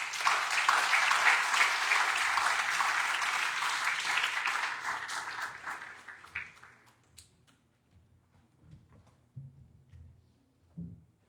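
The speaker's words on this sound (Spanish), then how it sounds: "Por favor, un fuerte aplauso." An audience at a short film premiere applauds a government official, dense clapping for about six seconds that fades out and leaves quiet room noise with a few soft sounds.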